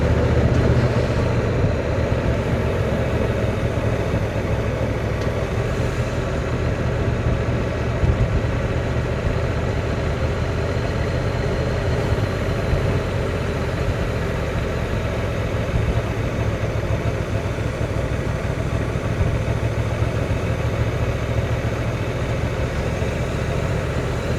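Steady low engine drone of a Honda NT1100 DCT motorcycle engine braking, with a constant rumble, continuous and fairly loud throughout, with no talking.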